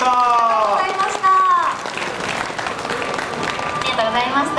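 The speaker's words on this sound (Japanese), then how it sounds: "大きな拍手でお送りください" A crowd at a Dragons cheerleader introduction applauds steadily, with a voice speaking over the clapping at the start.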